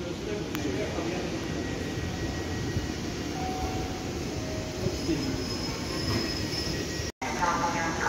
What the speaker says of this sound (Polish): A jednak jeszcze nagramy, jak rusza skład do Gdyni.